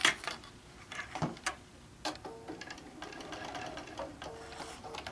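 A sewing machine stitches a simple panel quilt with a rod pocket, giving off quiet bursts of fast, rhythmic ticking that start and stop between short pauses and a few clicks, with no talking.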